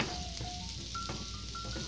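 Minced garlic sizzling in butter in a pan for garlic butter mussels, a soft, steady close fry hiss lasting under two seconds with faint whistle-like tones over it.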